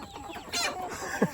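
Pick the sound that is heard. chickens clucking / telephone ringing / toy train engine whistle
chickens clucking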